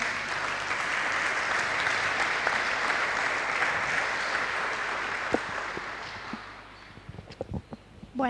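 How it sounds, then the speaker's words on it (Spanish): A church congregation at an Easter-season service applauds loudly and steadily for several seconds. The clapping then thins to a few scattered claps and a brief shuffling noise near the end. "Vamos a recibirla también con un aplauso."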